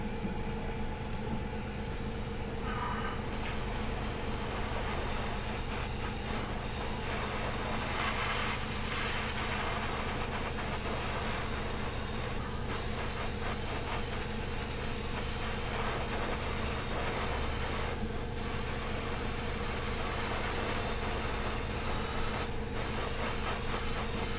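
A small airbrush compressor for painting a model kit runs steadily, a continuous faint hiss over a low motor hum, unchanging for the whole stretch with a few brief soft shifts and no voices.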